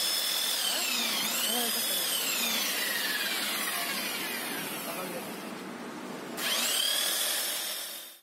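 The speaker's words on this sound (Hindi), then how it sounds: "किस तरीके से गिलास को हम घिस रहे हैं" A machine grinding and polishing glass by hand, giving a loud, steady, close whine that dips briefly near the end and then rises again. A voice speaks briefly underneath.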